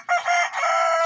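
Aseel roosters crow loudly and clearly, one drawn-out cock-a-doodle-doo with a brief dip midway, close by with no other sounds over it.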